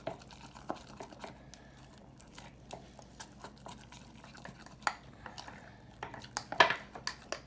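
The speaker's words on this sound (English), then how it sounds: "you just mix that into a paste" A spoon stirring sourdough starter, flour and water being worked into a thick paste, giving soft, irregular scraping and tapping against the bowl, close and fairly quiet, with one brighter clink near the end.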